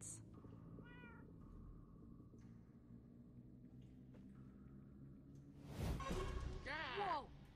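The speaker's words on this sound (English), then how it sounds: "That almost sounds like... cats?" Cats meow in the Minecraft: Story Mode video game, faint rising cries at first, then a louder drawn-out meow near the end over a steady game soundtrack with sound effects.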